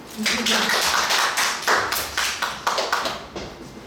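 A short burst of clapping at a lecture, a handful of people applauding in quick uneven claps for a few seconds, close by with a voice at the start.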